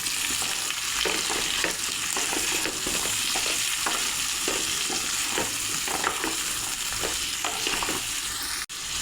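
Chopped vegetables are stirred together with chicken and spices in a hot pan for a chicken stew, a constant sizzle under regular scraping strokes, close and steady, ending with a sharp knock; no talking.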